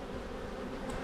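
Honey bees in an open hive during an inspection make a dense, continuous buzzing drone that stays close and even throughout.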